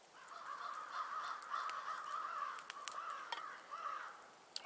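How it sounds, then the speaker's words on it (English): Crows caw repeatedly outdoors on a spring day, several harsh calls overlapping at moderate distance against a steady bird-filled background, with no voices. "Beautiful day, lots of birds around"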